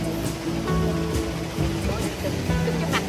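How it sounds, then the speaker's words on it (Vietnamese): Mountain stream in Cat Cat village, Sapa, Vietnam, in the rainy season: a constant rushing wash of water runs throughout beneath a person talking. "có con suối nữa."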